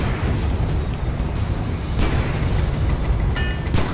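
Rocket explosion in Guns of Icarus airship combat, a deep rumbling boom over continuous low roar, with a couple of sharp bursts and crackles following.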